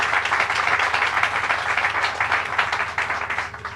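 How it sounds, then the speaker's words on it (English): An audience at an outdoor ceremony with Governor Cuomo gives a sustained round of applause, many hands clapping densely and loudly before tapering off at the end. "Let's give her a big round of applause."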